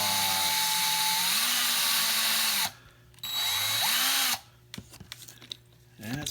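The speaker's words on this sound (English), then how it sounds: "we'll find out when we start to drill here" A power drill bores into a plastic Matchbox toy car, two loud steady whining bursts with a short pause between, then quieter handling clicks and taps.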